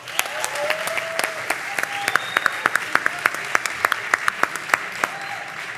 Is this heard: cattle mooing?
no